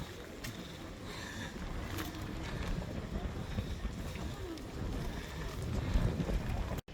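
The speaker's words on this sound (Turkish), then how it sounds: "Hava bugün çok kötü. O rüzgar var." Steady, loud wind buffeting the microphone outdoors in Kadıköy, Istanbul, a continuous rough rumble with faint background sounds mixed in.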